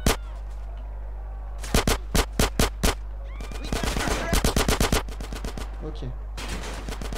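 Automatic gunfire aimed at the player in GTA San Andreas, near the SWAT truck, in loud rapid bursts of sharp shots with short gaps and a denser volley midway, over steady low game ambience and a brief spoken word.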